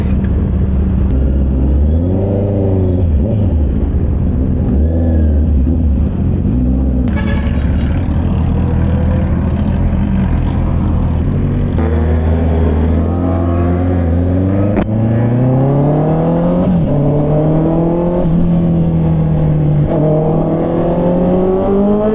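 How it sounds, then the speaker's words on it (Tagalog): A Kawasaki ZX-6R, a Kawasaki Z H2 and a Triumph Trident 660 accelerate away on a night ride, engines revving and climbing in pitch over a continuous loud rumble. "So si Eder lang kanyang ZX6R, si Rich Potato ZH2, tapos si Papi Pico ang kanyang Trident 660."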